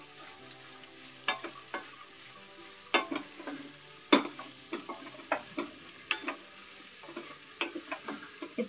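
Onion, ginger and garlic masala frying in oil in a pan for a Dhuska gravy, with a steady close sizzle and repeated clinks of a spoon stirring and scraping at irregular intervals.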